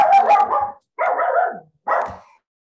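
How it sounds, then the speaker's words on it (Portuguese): Three loud, close dog barks follow one another at roughly even intervals, with short silences between them. "tem uma aqui na rua, aí ela late lá na rua, a outra late aqui"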